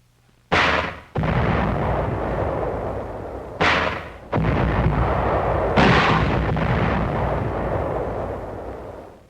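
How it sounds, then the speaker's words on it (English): Artillery fire from a 75mm howitzer mounted on an amphibious tractor, shelling enemy caves in 1945 combat on the Kerama Islands: three loud, close blasts, each followed by a long rolling rumble and reverberation. "A 75mm howitzer mounted on an Amtrak shells enemy caves."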